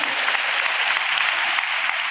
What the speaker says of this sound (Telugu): చప్పట్లు కొడుతూ స్తోత్రాలు చెప్తా